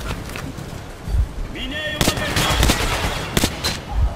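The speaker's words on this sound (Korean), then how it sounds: "총알 거의 다 쏴버렸네요." Gunfire in the video game Metro Last Light, several sharp shots and short bursts in quick succession, loud and close, with game effects around them.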